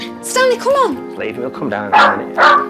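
A cairn terrier at a front door lets out several sharp, close barks and yips, mixed with a person talking over and between them to calm it.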